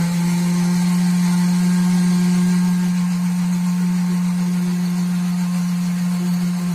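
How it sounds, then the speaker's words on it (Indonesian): A kitchen blender whirs steadily as it purees pear with sugar into juice, a loud constant motor hum with a high whine running without pause throughout, heard alone. "Tutup, kemudian blender."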